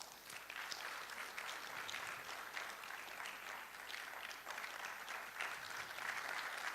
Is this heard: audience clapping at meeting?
yes